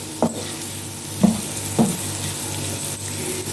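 Okra and masala sizzle in a pan for restaurant-style bhindi fry, with a steady frying hiss broken by three or four clear scraping stirs of a spoon against the pan, close and alone without talk.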